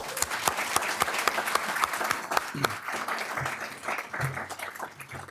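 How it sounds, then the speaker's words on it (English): A community meeting audience applauds the speakers, a dense crowd clapping with sharp individual claps standing out near the front, gradually thinning toward the end while a low voice murmurs underneath. "A big round of applause for all the speakers."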